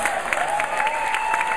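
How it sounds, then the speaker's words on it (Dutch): Warm, continuous applause from a concert audience, dense and even throughout, with a steady high tone running underneath. "Dus ik bedoel een hartelijk applaus,"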